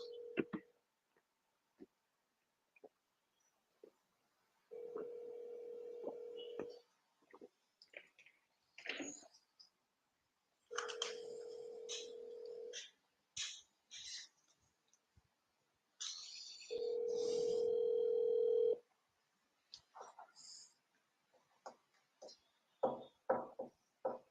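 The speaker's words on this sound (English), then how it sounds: "Let's get this guy on the phone." A telephone call to a seller rings out as a series of steady ringback tones, each about two seconds long, separated by gaps filled with brief clicks and muffled voices.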